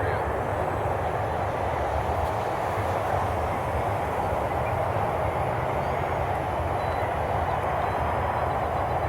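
An E-flite AT6 Texan model plane with a 3D-printed nine-cylinder engine comes in to land, giving a steady, unbroken drone of engine and wind noise at an even level throughout.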